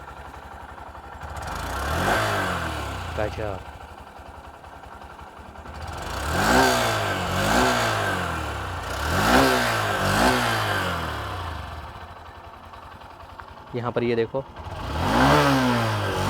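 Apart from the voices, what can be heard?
Honda SP 125 motorcycle engine starting and idling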